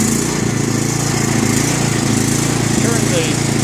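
A small engine with a pull-up choke, started by key, runs steadily and loudly close by with a rough, rapid idle that holds without pause.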